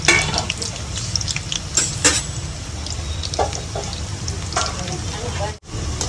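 Gram flour dumplings deep fry in hot oil in a kadai, giving a steady close bubbling sizzle with occasional light clinks and a brief dropout near the end.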